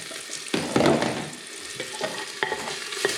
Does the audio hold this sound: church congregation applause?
no